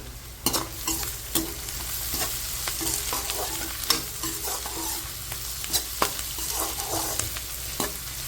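Spice masala for aloo gobhi roasting in a pan, with repeated scraping stirs and clicks of a spoon against the pan over a steady soft sizzle, close up and fairly quiet, irregular strokes throughout.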